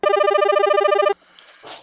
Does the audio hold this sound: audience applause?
no